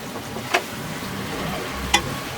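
Stuffed brinjal masala with curry leaves frying in oil on low heat, a soft steady sizzle with two sharp spatula taps against the pan, nearby and without speech.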